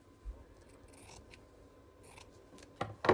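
Scissors snip through fabric scraps in a few short, crisp cuts, close and quiet, ending in a sharper snip.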